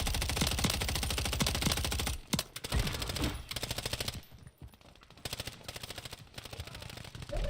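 Rapid automatic gunfire in the video game Call of Duty Warzone, loud and sustained bursts with brief gaps, close and dense throughout with no talking.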